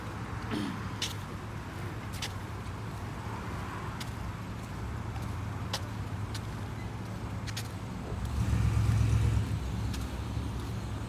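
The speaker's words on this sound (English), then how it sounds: "So this is traffic hour on Santa Monica Boulevard." Rush-hour traffic on Santa Monica Boulevard: a continuous wash of passing cars with scattered sharp clicks, and a louder vehicle rumbling close by near the end.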